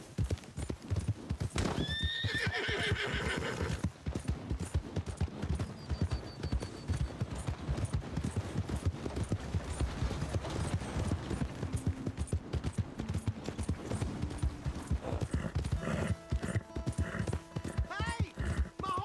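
Horse hooves clip-clop steadily through Red Dead Redemption 2 gameplay, with a sharp neigh near the start and a few more whinnies later, while gunfire bursts and background game sounds mix in.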